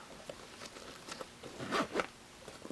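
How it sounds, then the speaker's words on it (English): A handbag zipper is drawn closed on a freshly sewn satchel, giving a few short, scratchy zipping runs close up, with the last strokes the loudest. "we're going to go ahead and try to zip it"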